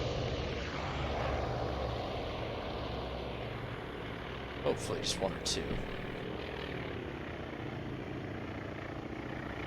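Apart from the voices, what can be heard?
search plane aircraft engine, from video game Task Force Admiral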